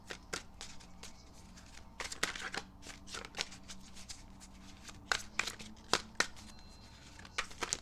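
Cards being handled from a pre-shuffled deck for a tarot-style reading: repeated soft flicks and paper snaps, some sharper, spread across the clip at close range with no talking.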